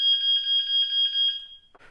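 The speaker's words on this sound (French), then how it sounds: "Donc tu vois là c'est assez fort comme bruit, hein, c'est vraiment une alarme" A small water leak detector unit sounds a loud, shrill electronic alarm, pulsing in rapid repeated beeps for almost two seconds before cutting off, followed by a faint handling noise.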